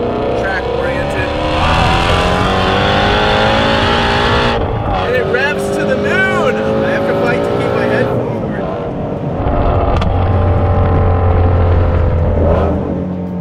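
An 850 HP supercharged Hennessey Mustang GT350R with a stiffer, track-oriented suspension roars around a race track, its loud engine rising and falling through hard acceleration and gear changes, with tire noise in the corners.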